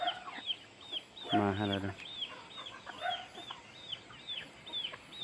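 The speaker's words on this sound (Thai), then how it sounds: "ตัวไก่แม่นี่ไก่แม่มันกำลังเอาลูกน้อยตัวหนึ่งเนาะ" Chickens cluck and chirp steadily on a farm, a mother hen with her chick and a rooster nearby, a brief louder squawk in the middle; a voice speaks briefly over the birds.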